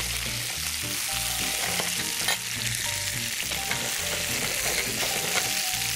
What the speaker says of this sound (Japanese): 先ほどのトマトとオクラですね、これをちょっと軽く炒めます